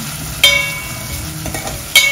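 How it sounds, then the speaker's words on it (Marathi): Onion sautéing in an oil tempering with asafoetida for a bitter field bean (val) curry: a soft, steady sizzle broken by two sharp spatula clinks against the pan. "आता कांदा चांगला परतून घ्यायचा आहे"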